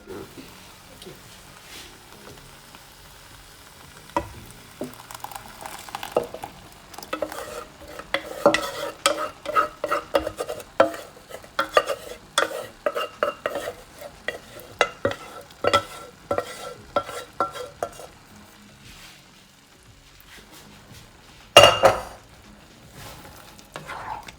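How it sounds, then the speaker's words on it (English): Spinach puree being stirred into chickpeas in a pan for a vegan spinach masala curry, a run of scraping, wet stirring strokes with a faint sizzle, growing busier midway, then a sharp clatter near the end. "that is going to go into the chickpeas"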